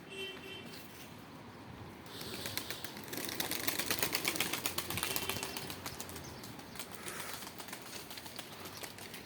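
Young birds, apparently pigeons, beat their wings in flight, a dense fluttering clatter that swells in the middle and then eases, fairly soft and close with no voices.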